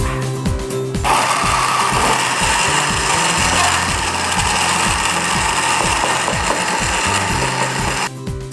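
An electric blender whirs loudly as it blends a sweetened coffee drink at a small coffee stall, a steady grinding motor drone with a rattling, choppy texture that starts abruptly and stops near the end.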